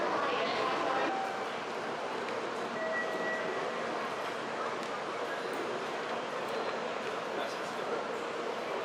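Shinkansen-style train pulling into Shin-Osaka terminal station, a steady interior rumble and whoosh of the moving carriage heard from on board, with a few faint tonal whines and no clear talk.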